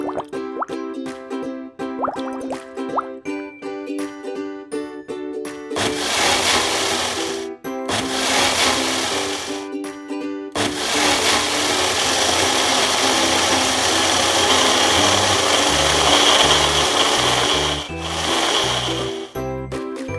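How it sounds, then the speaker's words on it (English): An electric blender pulverizes ice cubes, fruit and condensed milk into juice, beginning with loose clattering plops and rattles, then a loud sustained motor whir with bursts that continue almost throughout. "add the ice cubes, fruit, and condensed milk into blender and turn on the machine"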